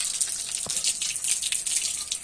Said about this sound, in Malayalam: ഞാൻ വെറുതെ വെള്ളത്തിൽ തന്നെ ഒന്ന് കഴുകിയെടുക്കുകയാണ്